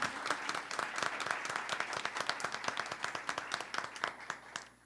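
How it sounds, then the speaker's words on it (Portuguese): An audience applauds its teachers at a talk on Jane Austen and her work, a steady patter of many hands clapping throughout, fairly close and even, with no voices standing out. "Palmas para as nossas queridas mestras."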